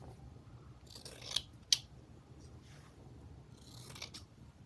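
Scissors snipping through a thin, sheer vintage book page, two sharp close cuts standing out over a soft rustle of paper in a quiet room.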